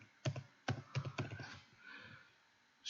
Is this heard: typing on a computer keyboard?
yes